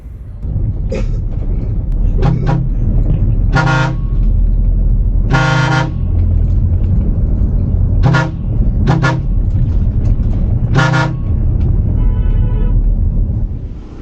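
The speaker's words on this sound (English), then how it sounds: "The one annoying thing about this trip is the constant horn honking." Car and bus horns honk repeatedly in traffic around a sleeper bus travelling from Cambodia to Vietnam, loud short toots and longer blasts over a constant engine and road rumble.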